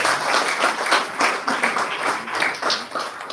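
An audience at a book presentation ceremony claps in a loud, close, rhythmic round of applause with pulsing swells, no talking over it.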